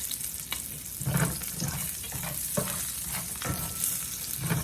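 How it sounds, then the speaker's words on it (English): Three to four sliced garlic cloves sizzling in a skillet, a steady crackling hiss up close with a spoon scraping and tapping the pan in an irregular rhythm, no talking. "3 to 4 garlic cloves. Add those right to our pan. Get those going."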